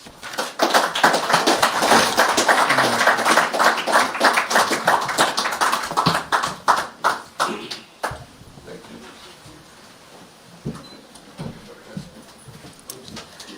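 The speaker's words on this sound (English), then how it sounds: "I believe we could give His Excellency a warmer round of applause for that address" A large audience applauds steadily and loudly after a presidential address in Zurich, the clapping thinning into a few scattered claps before cutting to quieter room noise.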